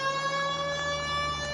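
A police car siren from the video game L.A. Noire wails steadily and loudly throughout, a sustained electronic tone layered over low engine rumble, with no talking.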